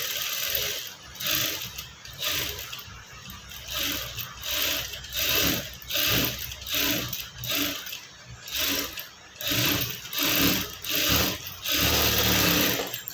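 Sewing machine stitching a Punjabi dress, running in a steady series of close, loud mechanical bursts with brief pauses between runs; no talking.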